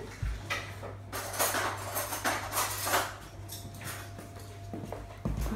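A teaspoon being grabbed in a kitchen while making salad jars, with cutlery clinking and rattling in a series of close, light metallic knocks and scrapes over a low steady hum.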